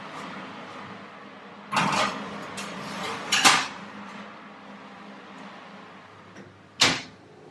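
Clattering clunks of a dish being set into an oven and the oven door handled, three sharp knocks separated by quiet pauses in a home kitchen, close and fairly loud.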